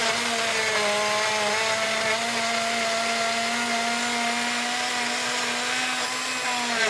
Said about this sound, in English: you kind of puree that just a little bit for about 30 seconds in the blender there